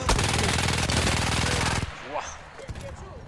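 Rapid automatic gunfire from an odd double-barrel, twin-magazine gun in Battlefield 1, a loud dense burst for nearly two seconds that cuts off, followed by quieter game effects and a few scattered shots.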